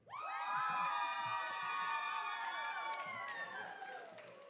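A college cheer squad shouts and cheers together at a community college commencement ceremony, a loud sustained chorus of voices with crowd noise underneath, holding strong throughout and tapering slightly at the end.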